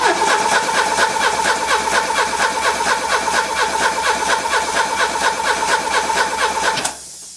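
Renault Super 5 engine after a head gasket job, cranking and running roughly with a fast uneven pulsing chug, loud and close, then cutting out abruptly near the end.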